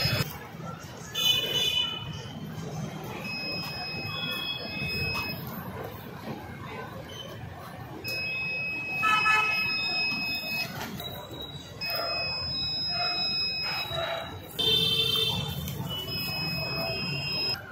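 An Arduino smart blind stick sounds repeated automatic electronic beeps, steady tones coming in short bursts and longer stretches against a noisy room background with some low voice activity.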